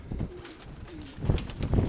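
Pigeons resting during bad weather give a few soft, low coos, brief murmurs separated by quieter gaps, fairly close with light rustling underneath.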